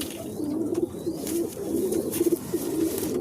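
A green-and-white crossbred pigeon coos in soft, repeated throaty rolls, close by, with a faint background hiss and no voices.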